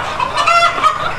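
Village chickens in a commercial kampung chicken coop cluck loudly and close, a brief cluster of overlapping nasal clucks with no talking.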